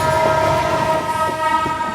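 A Mumbai Western line local train sounds close and loud, with a steady rumble and a sustained horn-like tone throughout.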